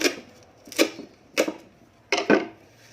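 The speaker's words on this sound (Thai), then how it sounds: "หั่นให้เป็น ชิ้นเล็กๆก่อนก็ได้ค่ะ" A knife chops ingredients into small pieces on a board, with four or five separate sharp knocks, some doubled, spaced about half a second apart and heard close up without talk.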